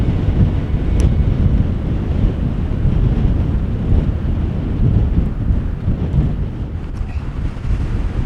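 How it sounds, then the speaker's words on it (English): Strong, relentless wind in a Sahara desert sandstorm roars continuously and loudly, buffeting the microphone with heavy low rumble and no pauses. "the wind is just relentless"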